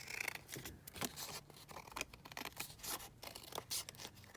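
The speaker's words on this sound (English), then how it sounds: "let me just snip that off." Scissors snipping through craft paper for an envelope pocket, a series of quick close cuts and papery rustles at low volume, with no voices.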